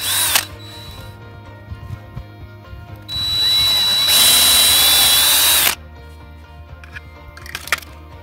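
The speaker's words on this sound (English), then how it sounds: "Just give me a little starter hole going." A power drill bores a starter hole while fitting a solar gate opener, whirring in a loud sustained burst of about two and a half seconds between quieter handling noises and a faint steady background hum.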